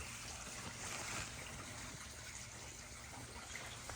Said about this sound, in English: they've got fresh water running in just like the crocodiles do